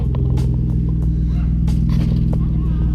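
A car engine rumbles through a new exhaust, a loud deep steady burble with rhythmic low pulsing, recorded close, with faint voices underneath.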